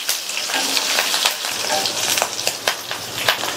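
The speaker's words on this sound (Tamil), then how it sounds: "கூடவே ஒரு கட் பண்ண காஞ்ச மிளகாவையும் சேர்த்துட்டு இதை லைட்டாக நல்லா வதக்கி விட்டுக்கலாம்." Cut dried red chillies sautéing in oil for a brinjal stir-fry, a loud continuous close sizzle with crackles and repeated stirring scrapes.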